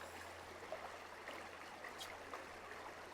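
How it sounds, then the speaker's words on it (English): A mountain stream flows steadily in a canyon, a soft continuous trickle and gurgle with a faint low hum beneath. "it's full mountain stream as soon as you get around the bend"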